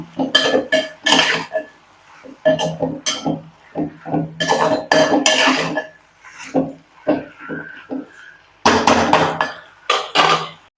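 Liver is stirred with ginger and garlic in a pan for a hotel-style eeral varuval fry. A utensil makes irregular clanks and scrapes against the pan in bursts separated by short pauses.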